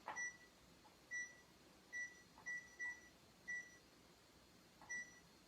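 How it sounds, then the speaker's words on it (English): A kitchen oven timer gives short, faint electronic beeps, about eight of them in an uneven sequence, quiet against a low background hum with no talk. "so I'm going to turn my timer on."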